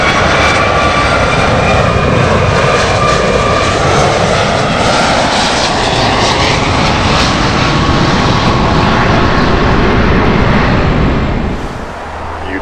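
A United Airlines Boeing 757-224 jet lands on a runway at LAX, its engines giving a loud, continuous roar that holds steady before easing off near the end, heard alone without talk.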